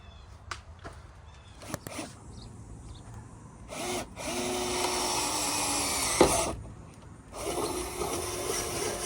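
A power drill bores holes through the floor of a shuttle bus being converted into an RV. Two sustained loud whining runs, each lasting a few seconds, are separated by short clicks and handling noise, close up and with no talking.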